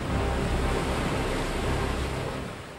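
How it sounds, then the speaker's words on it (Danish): Heavy storm seas near Cape Horn during a solo non-stop round-the-world sailing voyage, a loud continuous roar of breaking waves and wind that stays steady for most of the stretch before easing slightly, with no voices. "Jan ryger ind i det værste uvejr og de største bølger, han endnu har haft på tur"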